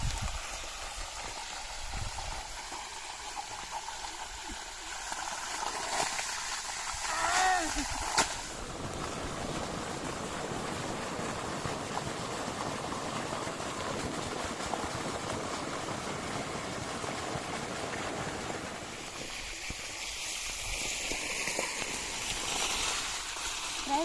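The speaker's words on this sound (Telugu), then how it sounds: "నీళ్ళు అయితే పడుతున్నాం" Water rushes steadily into basins around mango trees in an orchard, a continuous broad splashing flow with a brief louder gurgle early on and then a constant outdoor wash.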